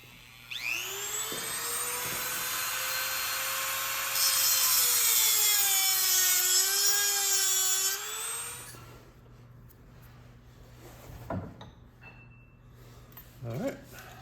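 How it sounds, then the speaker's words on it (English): A Dremel rotary tool whines steadily at high pitch for about eight seconds as it trims the tails of steel C-clips during a U-joint install, then cuts off, leaving quiet shop sounds and a few faint knocks. "we can trim the tails on the C-clips with a Dremel"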